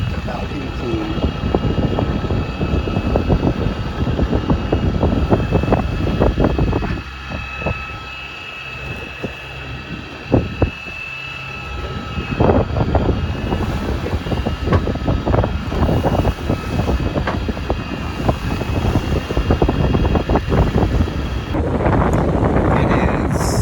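Steady wind roar buffets the microphone aboard a sailboat heading from Fort Pierce toward West Palm Beach in 14 to 18 knot breeze, with water and hull noise underneath and a brief lull midway.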